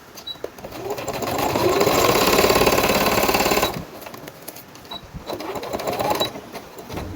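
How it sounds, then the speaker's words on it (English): A sewing machine stitches turban fabric along a chalk-marked line, running in a steady rapid whir for about four seconds, pausing briefly, then starting again in shorter bursts, close and alone. "you're going to use your sewing machine to sew it."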